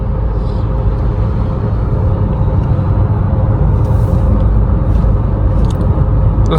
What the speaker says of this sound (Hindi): कंटिन्यूसली गाड़ी इतनी लगातार आ रही है ना